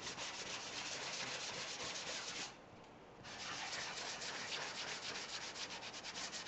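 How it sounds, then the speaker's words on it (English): Sandpaper rubbing across the back of a wooden cigar box guitar, a continuous close scratchy rasp with steady strokes, pausing briefly midway before carrying on. "As we sand over our holes"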